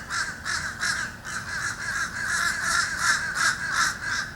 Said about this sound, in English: Those blackbirds are waiting for me to start.